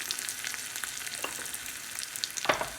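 Chilli powder and turmeric stirred into hot oil for a Kerala salad curry, a soft continuous frying crackle with light spoon scrapes and a brighter clink near the end.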